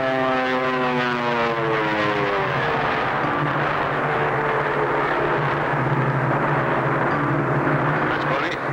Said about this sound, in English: I think I heard another plane.